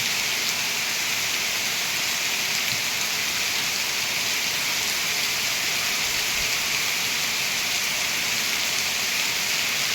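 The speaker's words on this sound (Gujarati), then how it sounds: "બહુ વરસાદ પડે." A downpour roars without pause, a thick constant wash of falling water close by, with no talking over it.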